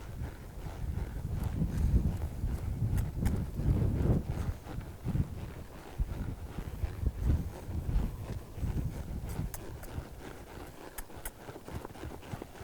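A horse's hoofbeats in a steady three-beat loping rhythm, moderately near, with light wind noise in the background and no talking.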